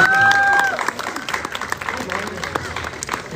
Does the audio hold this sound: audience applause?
yes